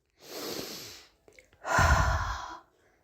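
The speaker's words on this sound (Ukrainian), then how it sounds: "Зробіть вдих через ніс, а видих через рот, спрямовуючи струмень на пер'їнку." Children in a kindergarten speech lesson breathe in through the nose and then blow out through the mouth toward a feather: a soft inhale, a short pause, then a longer, stronger, close exhale.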